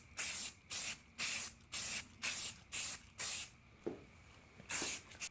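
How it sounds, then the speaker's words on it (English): Spray can applying paint to car parts in short on-off strokes: about nine loud, even hissing bursts, each a fraction of a second long, separated by brief pauses, close up with no talking. "Notice the on-off painting action that I'm using, where you do a stroke and you lift off."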